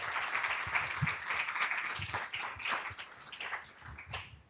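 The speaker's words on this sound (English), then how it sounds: "So yeah, clap." Audience at a DSC NYC design meetup clapping, a quiet, steady patter of many hands heard from a distance for a few seconds, with no talk over it.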